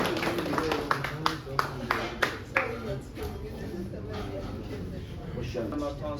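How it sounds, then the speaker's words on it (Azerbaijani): An audience applauds Hasan, head coach of the Azerbaijan chess federation: a few sharp, evenly spaced claps ring out at the start and then fade beneath someone speaking through a microphone in a hall. "Həsən müəllimə ehtiram veririk, alqışlayırıq Həsən müəllimə"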